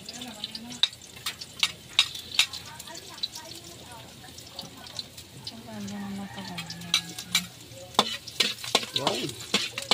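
Garlic fries and is stirred in a pan, with clattering utensil scrapes and bursts of sizzling over a crackling hiss, while a person talks briefly in between.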